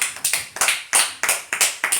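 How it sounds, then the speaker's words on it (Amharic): Children in a classroom clap together in quick, loud bursts of rhythmic group applause, several short volleys in a row with no talking over them. "አጨብጭቡላት"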